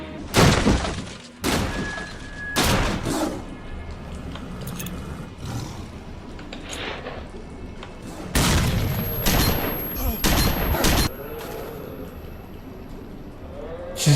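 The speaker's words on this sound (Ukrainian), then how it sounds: "Я практично під нього кинув гранату." Grenade blast and gunfire in S.T.A.L.K.E.R.: Shadow of Chernobyl, with several loud, sharp explosive bursts and shatters spread across the stretch, separated by quieter ambient rumble.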